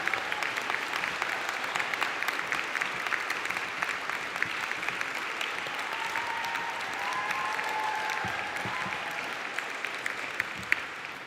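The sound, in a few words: applause for a graduate group at a conferring ceremony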